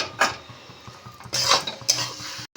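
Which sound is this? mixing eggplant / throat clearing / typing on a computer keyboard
mixing eggplant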